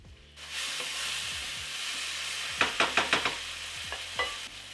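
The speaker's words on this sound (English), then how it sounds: "Cook the tomatoes until they start breaking down." Tomatoes and spices cooking in a pan for pilau, a steady sizzle starting up and then a run of several quick scraping stirs against the pan, close and with no voices.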